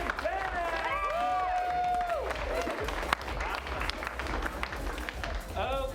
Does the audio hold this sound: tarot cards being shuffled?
no